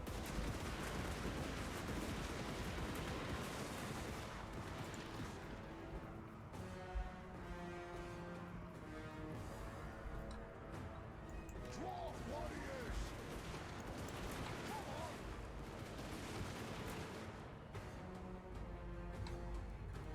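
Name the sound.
units firing weapons in a video game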